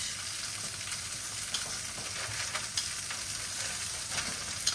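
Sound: pork chops sizzling in a hot cast iron pan

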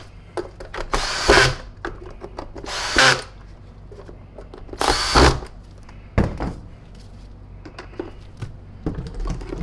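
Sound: power drill driving Phillips screws at low torque

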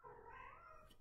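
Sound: cat

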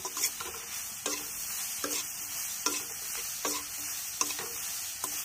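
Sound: stirring and frying green beans with salt in a pan

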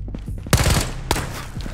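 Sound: gunfire emptying a magazine in the video game Ghosts of Tabor

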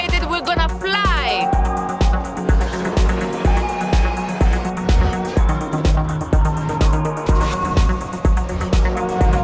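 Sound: Peugeot 508 SW driven by a precision driver

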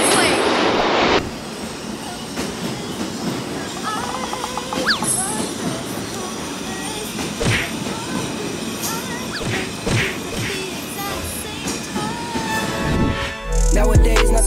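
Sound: subway train passing

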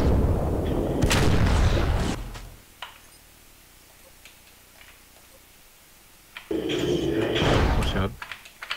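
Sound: mech firing missiles in video game MWLL

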